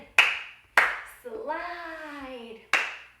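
Children clap their hands in time during practice for an annual dance show, three sharp claps spaced about half a second to two seconds apart, with an adult voice speaking between them.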